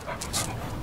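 A dog pants in quick, breathy bursts, close and fairly soft, a short run of rhythmic huffs with no voices over it.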